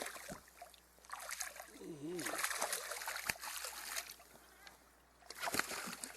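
A hooked fish splashing at the surface as an angler lands it from a boat, irregular watery slaps and sloshes, close and fairly quiet, with brief vocal sounds in between.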